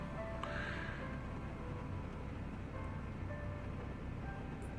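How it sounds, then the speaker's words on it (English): A low, steady rumble of a truck engine idles at some distance, faint and continuous, with a few thin tonal whines drifting over it. "sorry about the noise. There's a truck over yonder."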